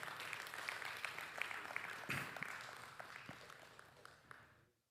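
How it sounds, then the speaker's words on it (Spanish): A church congregation claps at a Sunday service, a scattered patter of individual hands at moderate volume that thins and fades out toward the end. "Aplaudan, por favor, aunque sea por obligación"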